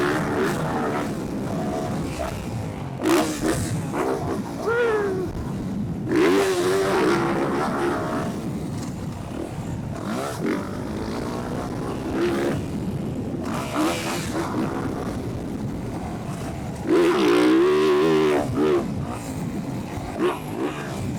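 Yamaha dirt bike laps a motocross track at the Star Racing Yamaha facility, engine revving and surging in repeated bursts as it accelerates and backs off through sections, close and loud.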